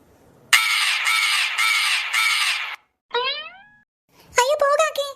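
A crow caws in a loud run of four harsh calls, then falls silent and returns with shorter, higher calls nearby.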